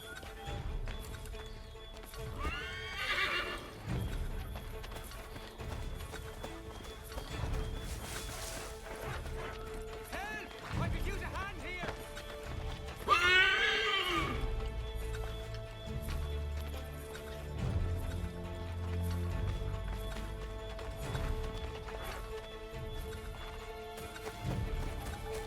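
Horses whinny and hooves clip-clop in Assassin's Creed 3 gameplay, with a couple of high whinnies rising over a steady, muffled patter of hoofbeats and soft ambient game sound.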